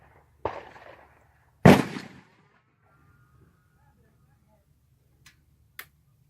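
Two sharp, loud rifle reports from a kid's .243 deer rifle during sighting in, spaced about a second apart at a shooting range, each with a short decaying tail, followed by faint distant clicks.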